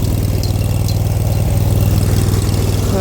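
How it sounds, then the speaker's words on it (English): Cub Cadet GT2550 lawn tractor with a heavy-duty engine idling steadily nearby, a loud, even low rumble with a regular pulsing throb throughout and no talk. "it's supposed to be a pretty heavy duty motor"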